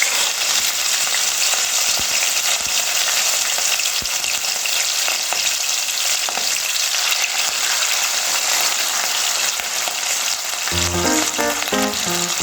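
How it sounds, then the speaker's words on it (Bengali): Katla fish pieces frying in hot mustard oil in a kadai give a loud, steady, dense sizzle that runs unbroken throughout, close up, with a few faint clinks near the end. "এবার মাছগুলো ভেজে নেব।"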